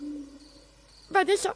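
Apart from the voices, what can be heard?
owl hooting in the forest at night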